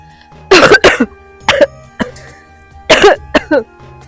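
Several sharp, harsh coughs come in two bursts with short pauses between them, loud and close, with a throat-clearing quality and no talking.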